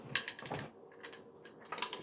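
A Rider-Waite tarot deck is shuffled by hand in quick, soft papery riffles and clicks, with a short lull in the middle before another burst of card flicks.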